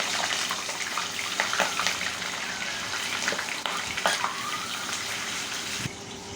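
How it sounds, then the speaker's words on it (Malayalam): Five green chilies fry in hot oil as a side for moong dal vada, giving a steady, dense crackling sizzle with brief bubbling pops throughout and no voices. "ഞാനിവിടെ 5 മുളക് ഈ എണ്ണയ്ക്കകത്ത് തന്നെ ഇട്ട് വറുക്കുകയാണ്"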